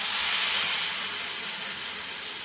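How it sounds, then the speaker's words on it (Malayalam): Hot water poured into a pan of melted butter sets off a loud, steady hiss of steam and sizzling that fades slightly over a few seconds, with no voices. "ഇപ്പം ചൂടുവെള്ളം ഒഴിച്ചു കൊടുക്കണേ"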